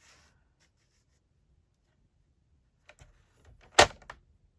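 Paper being scored with a scoring blade on a paper trimmer: a near-silent stretch, then a few faint scratches and one short, sharp swipe near the end, quiet and close.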